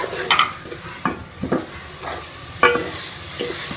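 Spices for rajma masala fry in a pan with coriander and crushed red chilli, a soft sizzle under repeated close scraping strokes of a spoon stirring, no talking.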